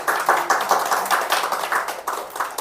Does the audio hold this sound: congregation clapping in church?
yes